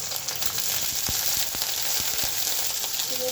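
Onion sizzling in hot oil in a home kitchen pan, a continuous bright crackling fry with a few sharp pops and stirring clicks, close and steady with no talk.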